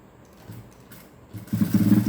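A sewing machine stitches a cigarette-style pant, running in a low steady whir that starts faint and grows louder and more continuous in the final second.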